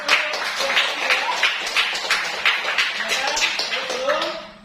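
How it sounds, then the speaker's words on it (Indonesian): Classroom applause after a student group's mathematics presentation, a moderate patter of hand claps at close range, mixed with talking voices and chatter throughout. "terima kasih untuk memberikan tepuk tangan"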